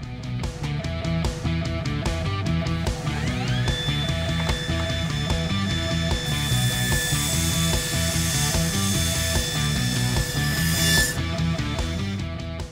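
A 45-degree stainless exhaust tube for a 1972 Mercury Marquis being trimmed with a power tool, a loud, steady grinding and rasping that runs unbroken, with a rising high whine partway through.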